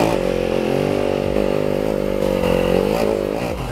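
A dirt bike climbs a steep hill at moderate speed. The engine roars loud and close, holding a steady throttle while its pitch shifts slightly through the climb.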